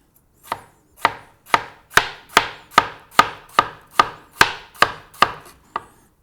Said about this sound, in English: then you cut up the cucumber